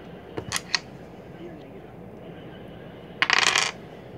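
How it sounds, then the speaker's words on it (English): Dice tumble and clatter across a surface during a tabletop game, with a few quick rattles early on and then a denser, louder burst of clicking near the end, over a quiet background. "Yes, I win the first dice roll."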